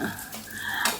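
Moong dal frying in ghee in a pan, a soft crackling sizzle with a stir and a light clink of utensil near the end, brief and close.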